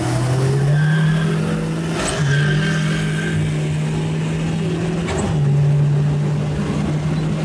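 Diesel 1.9 TDI car running nitrous in a drag race against a BMW M5, its engine droning loudly and steadily with two brief surges or gear shifts, tire noise underneath, no talking.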